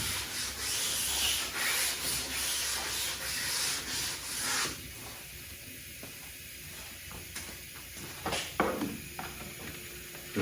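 Sanding block rubbed over a guide-coated truck door on a 1981 Chevy C10, a steady near scraping that runs strongly for about five seconds, then turns to sparse, quieter strokes with a few sharp scuffs.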